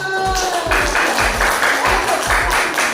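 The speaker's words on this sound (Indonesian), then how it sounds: "tepuk tangan untuk kelompok 2" Classroom students clap together for a presenting group, a steady burst of applause filling the room with rhythmic thumps mixed in.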